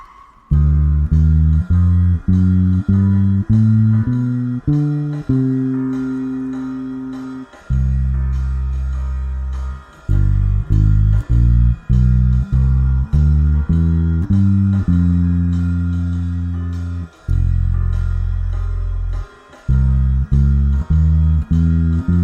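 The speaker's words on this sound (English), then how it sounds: "it will play a backing track for these chord progressions" iReal Pro backing track playing a minor 2-5-1 chord progression, with clipped piano-style chords and bass in a steady swung rhythm and short gaps between passes, loud and alone with no voices.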